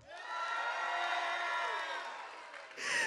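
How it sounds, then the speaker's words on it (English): A karaoke crowd roars with cheering and whoops, a loud sustained wave of shouting voices that dips slightly before swelling again at the end. "you make noise, you cheer, you whoop, and you treat the person on this stage like an absolute rock star"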